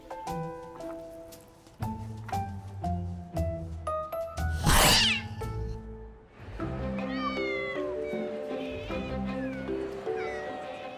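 Bengal cats meow at a large cat sanctuary, several distinct cries in a row, close and clear, with a loud rustling burst midway followed by more overlapping meows.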